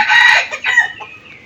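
Chickens clucking and squawking loudly up close in a rooftop garden in the morning, a burst of busy calls that tapers off into quieter clucks.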